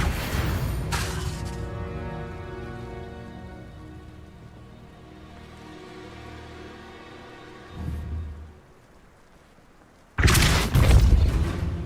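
The Depulso force spell cast in Hogwarts Legacy: a sharp burst opening a shimmering, tonal magical hum that slowly fades, a brief thud near the end, then another loud crashing blast, no speech.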